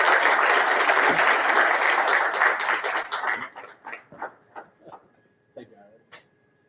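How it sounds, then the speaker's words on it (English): An audience at an ACCA Pakistan annual member meeting and iftar dinner breaks into full, loud applause that holds for a few seconds, then thins into scattered individual claps and dies away. "Ladies and gentlemen, big round of applause."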